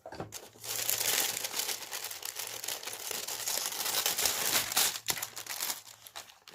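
Paper packaging in a Glossybox beauty subscription box crinkles and rustles close up, a sustained bout of crumpling for several seconds with brief pauses and a faint low hum beneath.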